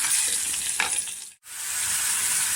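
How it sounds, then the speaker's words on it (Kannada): Cloves and crushed cinnamon frying in oil, a bright close sizzle with a brief stir, dipping almost to silence for a moment before the sizzle returns. "ಸ್ವಲ್ಪ ಲವಂಗ ಹಾಕ್ತಾಯಿದ್ದೀನಿ ಹಸಿ ಚಕ್ಕೆನ ಸ್ವಲ್ಪ ಪುಡಿ ಮಾಡ್ಕೊಂಡಿದ್ದೀನಿ ಇದು ಸ್ವಲ್ಪ ಫ್ರೈ ಆದಮೇಲೆ"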